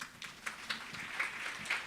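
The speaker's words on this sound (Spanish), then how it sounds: "Un aplauso para ella." Soft, distant applause for a speaker at an academic talk, a faint wash of scattered claps with a few louder bursts, continuing steadily without voices.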